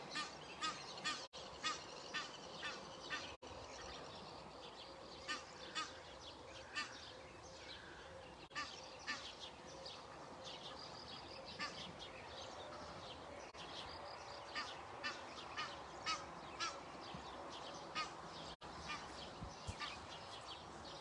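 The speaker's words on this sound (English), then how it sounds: "Egyptian geese with your 4 goslings" Egyptian geese honk repeatedly in short calls, some fairly close and others farther off, over a quiet outdoor background with no talking; a pair with four goslings.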